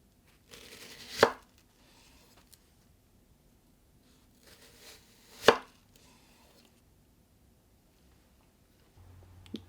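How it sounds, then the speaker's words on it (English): A knife cuts an onion into halves and then quarters on a cutting board with two sharp, close chops separated by quiet, plus faint handling sounds. "Cut the onion in half, then 4 pieces."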